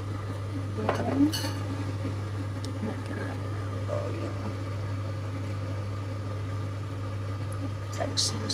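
Pork, shrimp and other filling ingredients for Hong Kong-style fresh rice noodles being stirred together in a bowl, with soft scraping and clinking of a utensil over a steady low hum, fairly quiet with no talk.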